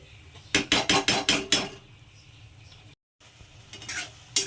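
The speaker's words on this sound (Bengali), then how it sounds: "দেখুন মিশিয়ে নিয়েছি এখনই কিন্তু এটাকে একটু কষাবো আমি" Red lentils and bottle gourd being sautéed in a pan, with a quick run of about six sharp scraping and clanking stirs, then a soft sizzle after a short gap.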